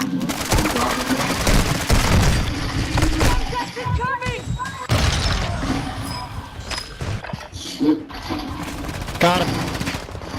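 Video game firefight: sustained machine-gun bursts and rapid rifle shots fill the scene, dense and loud at the start and thinning into scattered cracks and impacts, with players' voices talking over the shooting.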